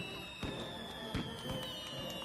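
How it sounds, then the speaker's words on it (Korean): Firecrackers burst in a sequence of sharp pops near an outdoor theatre in the evening, with a few crisp cracks spaced about half a second apart over a steady background hum, no voices. "폭죽 터지는 소리를 들으면"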